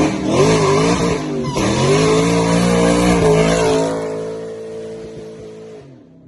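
A 2003 Cobra with a high-horsepower V8 holds a loud, close burnout, engine droning steadily under screeching tire squeal for about four seconds before the revs drop and the sound fades away.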